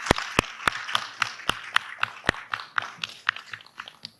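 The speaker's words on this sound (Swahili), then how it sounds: "basi tafadhali naomba tuwapigieni makofi" Scattered handclaps from an audience at a by-election political debate in Msambweni, sharp and fairly close, coming in an uneven series of single claps rather than dense applause.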